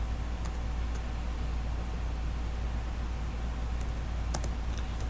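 Typing on a computer keyboard gives a handful of sparse, light key clicks over a constant low hum and hiss, quiet and with no speech.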